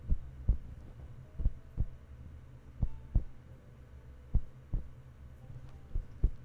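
Headphone pads tapped to imitate a heartbeat during a soft-spoken ASMR session, giving a steady series of close, muffled double thumps with a faint hum behind them and no voice.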